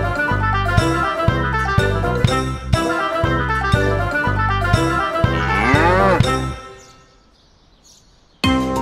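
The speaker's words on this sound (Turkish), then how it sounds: "İnek burada yaşayacak." A cartoon cow in a farm village scene moos repeatedly over a rhythmic musical backing with cowbell-like tones, loud and close, then fades into near silence before a brief final sound.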